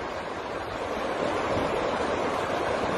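Strong wind blows across a beach at the water's edge, a constant loud rushing roar blended with surf and no one speaking.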